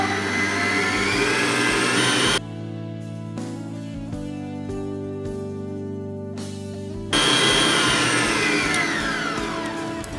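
An electric hand mixer whirs steadily while milk is briefly stirred into a wonder-cake batter, a loud close motor drone whose pitch drops midway at a slower setting, then rises again at full speed.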